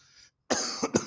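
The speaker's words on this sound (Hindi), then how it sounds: "सॉरी, खांसी चल रही है।" A teacher coughs during a maths lesson, a sharp close cough followed by two quicker hacking bursts after a short silence.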